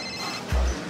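A short burst of a phone ringing, loud and brief, with no talking over it.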